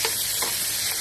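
Sardines sautéing in a hot pan with tomatoes, a brief close burst of bright, steady sizzling with a light stir, no voices.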